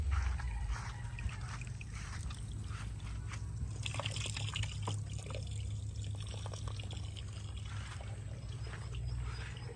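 Water pouring and splashing in a steady stream while eggplant is washed outdoors in a rural province setting, continuous and fairly close, with a low rumble underneath.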